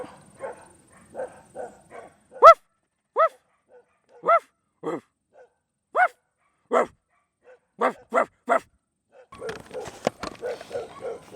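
A dog barks in a steady series of sharp, separate woofs, close and clear, with some softer voices at the start and end.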